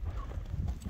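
Hooves of a thick-bodied horse clip-clop close by in a steady, continuous patter through a brief stretch, with no voices over them.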